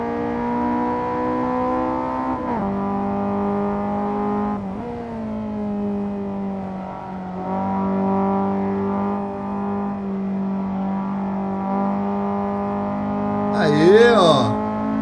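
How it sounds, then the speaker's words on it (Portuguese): A Honda VTEC engine in the Gran Turismo racing game, a front-wheel-drive car, revs hard and steadily under acceleration, its tone shifting upward as the cam changes over, with a brief tire squeal near the end. "na hora que o VTEC abre é legal, velho, a mudança do barulho que faz"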